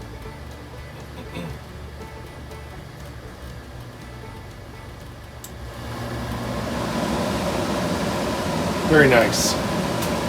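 A repaired shop heater's blower fan runs, a steady broadband whoosh that swells louder after about six seconds and keeps going; a person speaks briefly over it.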